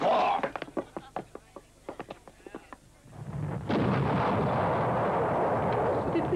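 Tank gunfire and explosions in a 1979 Canada Dry ginger ale TV advert: a rapid volley of sharp, loud blasts, followed by a sustained roaring rumble of explosion and debris that fills the rest.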